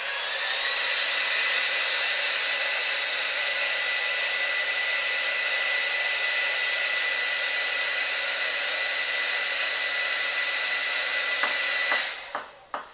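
A hair dryer blows with a steady, loud whooshing roar, keeping a ping pong ball floating in the air, then clicks off near the end with a few brief knocks.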